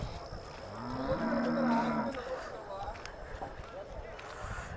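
Cattle moo at the Chintamani cow and bull market, with one long, drawn-out low moo rising over a busy outdoor background while people talk nearby.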